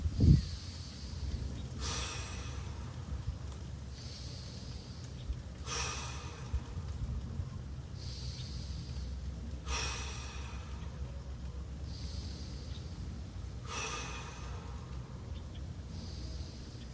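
Five big, deep breaths taken during a mobility exercise while lying flat on the back, each long airy inhale and exhale repeating in a slow, steady rhythm, close and fairly soft, with no talking.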